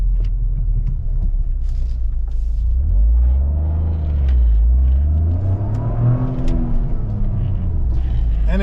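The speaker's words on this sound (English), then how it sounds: "you're going to get big-time exhaust noise" A 2023 Toyota GR Corolla Core rumbles with a deep, loud exhaust burble close by, holding steady before a throttle blip swells the drone upward and settles back, with a hint of voices faintly in the background.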